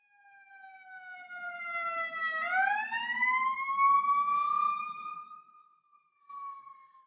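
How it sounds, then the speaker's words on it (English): An ambulance siren passing nearby, a long wailing tone that rises, holds loud, then fades as the vehicle moves off. "let me try to wait until this ambulance leaves"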